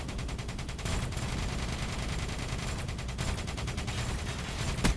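Gunfire in the video game Black Ops 3, including a nail gun weapon: steady rapid automatic fire, close and dense, running almost the whole time with brief pauses.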